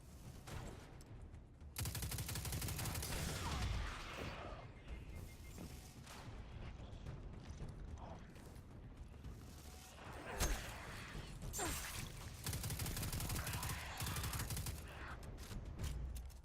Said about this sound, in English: This SMG's got a really high fire rate,